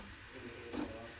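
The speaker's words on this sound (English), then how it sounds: "now it changed sound, so that means now it's not frothing, now it's just steaming" The steam wand of a Breville Barista Touch BES880 espresso machine hisses softly while steaming milk, a faint steady rushing with a brief louder gurgle near the middle.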